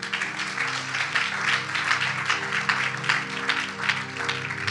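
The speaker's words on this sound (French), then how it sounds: "Acclamons le Camerounais quand même" A church congregation breaks into sustained, fairly loud applause for a Cameroonian, with bursts of clapping and cheering rising and falling throughout, and no talking over it.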